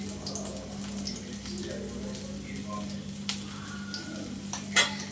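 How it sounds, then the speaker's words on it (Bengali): Chopped onion and garlic fry in a pan for a red amaranth (lal shak) dish with a faint, steady sizzle, scattered light clicks and a brief louder clatter near the end. "গরম হয়ে গেলে এখানে আমি কেটে রাখা পেঁয়াজ রসুনগুলো দিয়ে দিব।"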